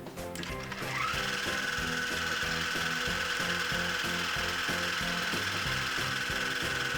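A sewing machine fitted with a buttonhole foot, the foot locked down by its rear bar, stitching a buttonhole on its own: steady fast mechanical whirring with a rapid rhythmic clatter, close and loud throughout, with no talking.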